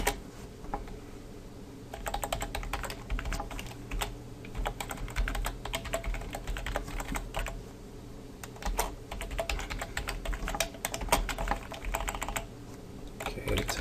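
Close computer keyboard typing for PHP web development, heard as fast clattering keystroke runs in irregular bursts with short pauses, steady and alone for about fourteen seconds.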